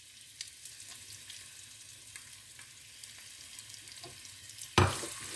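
Chopped onion and garlic cooking in hot oil for a chicken qorma, a steady low sizzle and crackle running throughout, with a louder burst of spitting toward the end as more goes into the pan; no one speaks.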